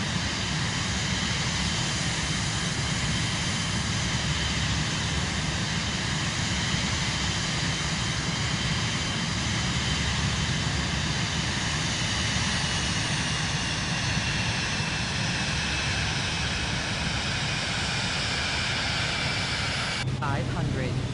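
Steady engine drone of a larger aircraft approaching to land in Microsoft Flight Simulator 2024, a constant loud jet-and-propeller hum holding level throughout, ending with a short change near the close.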